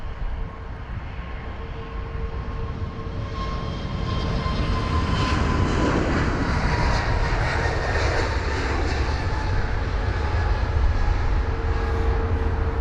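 A jet airliner departs Heathrow runway 27 right close by, its engines building from a steady roar into a loud, sustained broadband thunder that holds for the rest of the run, with no talk over it.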